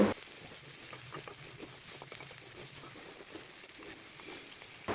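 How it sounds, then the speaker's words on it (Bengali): Small shrimp frying in oil with browned onions, a close, steady sizzle with light crackling and occasional stirring scrapes, continuous and without voices. "ছোট চিংড়িটা দিয়ে আবার একটু ভেজে নিব"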